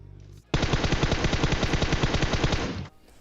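Automatic gunfire in a video game: after a brief quiet moment comes a single rapid burst of roughly twenty evenly spaced, loud, close shots lasting over two seconds, which then cuts off sharply.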